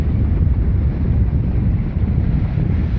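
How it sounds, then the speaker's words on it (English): Steady, strong wind over Lake Michigan at Chicago rushes and buffets the microphone with a low, continuous roar and no other distinct sounds. "That's why today is quite a windy day"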